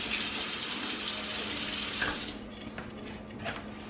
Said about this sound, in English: Let me rinse this pot out real quick.